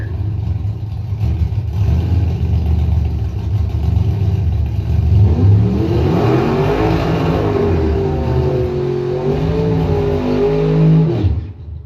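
Drag race car at a points-event semi-final burnout, engine roaring loudly and steadily, rising in revs midway, then cutting out abruptly near the end as the car quits.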